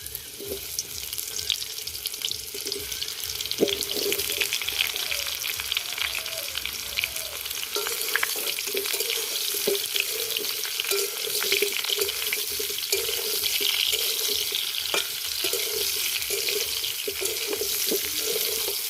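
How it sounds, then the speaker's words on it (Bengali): Raw mango pieces fry in mustard oil with fennel seeds in a wok for a village-style mango pickle, a steady close sizzle and crackle with occasional stirring scrapes and clatter. "এবার আমগুলো দিয়ে দেবো তেলের মধ্যে।"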